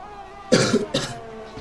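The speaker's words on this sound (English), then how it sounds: "Sorry about the coughing" A person coughs twice in quick succession near the microphone, short harsh bursts with a throat-clearing quality over faint background noise.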